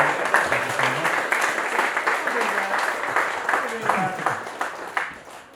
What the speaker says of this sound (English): give yourselves a round of applause for being here tonight